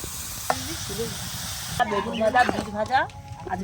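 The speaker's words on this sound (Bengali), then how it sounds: "লাল বিট তেলের মধ্যে দিয়েছি প্রথমে" Red beetroot fries in hot oil in a pan, giving a continuous close sizzle and hiss while someone talks over it throughout.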